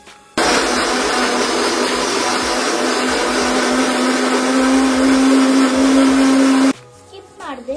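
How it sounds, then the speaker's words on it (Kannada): A mixer grinder whirs loudly and steadily for about six seconds, close by, while grinding tomatoes into a chutney-like paste for paneer masala. It cuts off abruptly, followed by brief handling noise. "ಈಗ ಅದನ್ನ ಗ್ರೈಂಡ್ಗೆ ಹಾಕೋಣ. ಸೊ ಗ್ರೈಂಡ್ ಮಾಡೋವಾಗ ಟೊಮೆಟೊ ಬಂದ್ಬಿಟ್ಟು ಚೆನ್ನಾಗಿ ಚಟ್ನಿ ಥರ ಆಗಬೇಕು."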